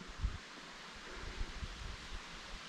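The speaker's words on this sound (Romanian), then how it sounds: "Ia uite vântul." Steady wind whooshing through pine trees in Algonquin Park, Canada, a broad soft rustle with gentle gusts rising and falling, no voices.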